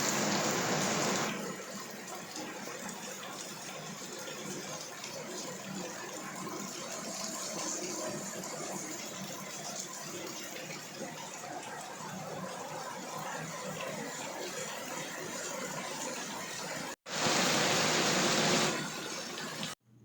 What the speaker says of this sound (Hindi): इधर बर्तन धोने लग गई हूँ